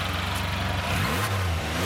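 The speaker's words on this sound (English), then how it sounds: "Bike runs absolutely perfect." A Can-Am Spyder RT S SE6 three-wheeled motorcycle engine runs at a steady idle with a slight rev, close and continuous, with no voices.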